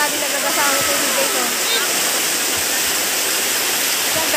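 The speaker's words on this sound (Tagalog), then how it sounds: "grabe nagagasa ang tubig" Pumalog Falls pours steadily in a loud, continuous broadband rush of falling water, close and unbroken throughout, with no clear speech over it.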